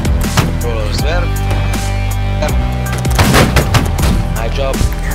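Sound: musket volley fire in the video game Holdfast

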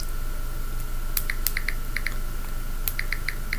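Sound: typing on a keyboard

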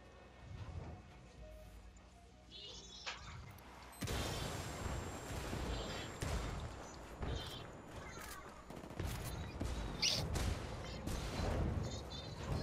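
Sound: enemies spraying gunfire in the video game Ghost Recon Wildlands

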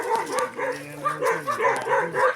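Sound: dogs barking

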